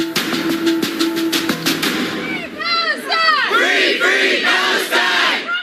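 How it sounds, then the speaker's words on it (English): A rally crowd in downtown Lexington supporting Palestinian civilians chants and shouts loudly, with rhythmic clapping and drum-like hits at first, then rising, wavering cheers and cries from many voices. "crowds gathered in downtown Lexington to voice their support of Palestinian civilians"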